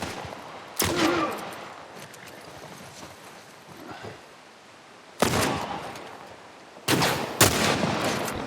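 Sharp gunshots from The Last of Us Remake gameplay: a single loud shot near the start, another after a long pause, then two quick shots close together, with low game ambience between.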